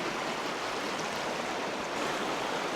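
A stream flows over large stones while someone wades across it, giving a steady, dense rushing wash of water with no clear breaks and no talking.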